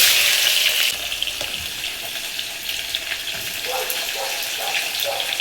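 Chopped onion dropped into hot oil already crackling with mustard and cumin seeds sizzles steadily, a bright frying hiss with light stirring taps and soft scraping, loud at first and then settling to an even crackle.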